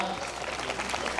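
Audience clapping at a school annual function award ceremony, a fairly quiet, scattered patter of many hands in a large gathering, somewhat thin and uneven.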